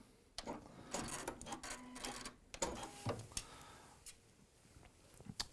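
A sewing machine backstitches a seam on a unisex shirt in short, faint bursts of rapid mechanical ticking, broken by pauses and handling clicks, close and quiet.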